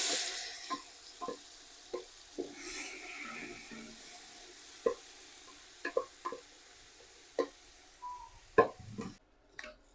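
Masala frying and being stirred in chicken-fried oil inside a pressure cooker while making a simple biryani, with a steady sizzle under repeated sharp scraping clicks of a spoon against the pot.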